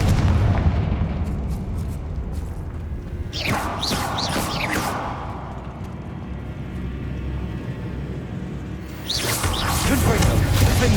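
Confringo explosive spell blasts in the video game Hogwarts Legacy: rumbling booms and whooshing bursts, with a sharp crackling flurry in the middle and a louder blast near the end, amid ongoing combat noise.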